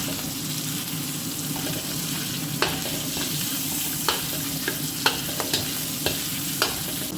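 Stirring in a pan with a little olive oil, a steady soft sizzle and hiss running throughout, with several sharp scrapes and taps of the utensil against the pan.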